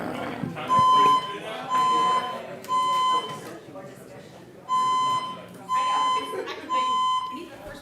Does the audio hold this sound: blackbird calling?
no